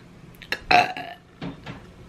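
A single loud, close burp rumbles out during a no-burping challenge, followed by a second softer, throaty belch a moment later, with no talking over it.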